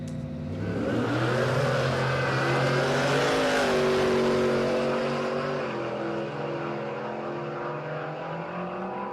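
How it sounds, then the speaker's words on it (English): A supercharged Ford Bronco drag racing at Palmyra Raceway roars loud and near, its engine note rising in pitch then holding a steady, heavy drone through the run with no voices over it. "Matty Turner waiting patiently in the supercharged Bronco."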